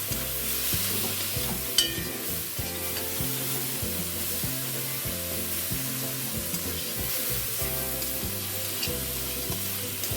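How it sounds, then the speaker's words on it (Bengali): Capsicum and chillies fry with turmeric and chilli powder while being stirred in a pan for an egg curry. A continuous sizzle and scraping sit under louder rhythmic background music, with no speech. "হলুদ গুঁড়ো লঙ্কা গুঁড়ো দিয়ে ভালো করে মিশিয়ে মশলা ভেজে নিতে হবে।"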